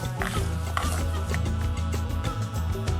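A knife taps repeatedly on a cutting board in quick, steady chops through large red chilies, close and clear under soft background music.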